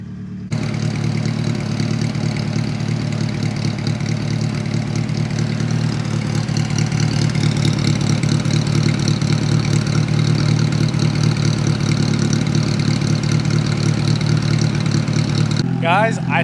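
A car engine idles steadily and loudly after a head gasket repair, a continuous close rumble that holds almost unbroken from start to finish before cutting off abruptly at the end.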